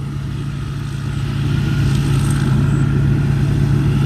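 A rice harvester running in a paddy field during the dry-season harvest, a loud steady engine drone with a strong low hum that builds slightly partway through, no voices.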